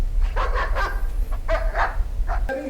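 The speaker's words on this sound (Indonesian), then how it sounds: "lalu Abby menggonggong sangat keras seolah-olah ada sesuatu di sana." A dog barks very loudly in a tense indoor scene, several sharp close barks in two bursts with brief gaps and a whimpering edge, no talking.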